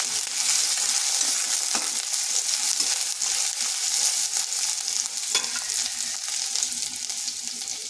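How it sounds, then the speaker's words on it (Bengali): Thinly sliced onion is lightly fried in a pan, giving a steady close sizzle with a few soft stirring scrapes and no talking. "হালকা একটু ভেজে নেব।"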